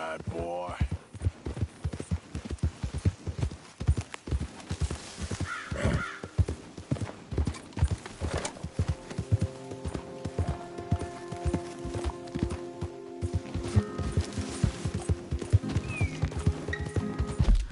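A horse in the Western video game Red Dead Redemption 2 clip-clops at a quick, steady gallop, hoofbeats close and rhythmic throughout, with game music and occasional sounds layered over them.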